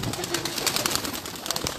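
A flock of migratory pigeons coos and flutters close by in a short, busy burst.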